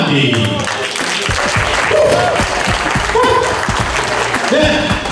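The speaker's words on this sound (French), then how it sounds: "on va applaudir pour Naomi Domande" Gala audience at a Montreal pageant applauding a jury member, loud dense clapping that runs steadily throughout with a voice talking over it.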